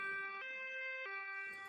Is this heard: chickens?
no